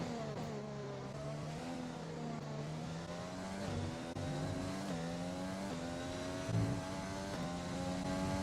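Formula 1 race cars at the British Grand Prix, including a Renault, roar through a corner, their high engine notes rising and falling in steady gear changes, continuous and moderately distant.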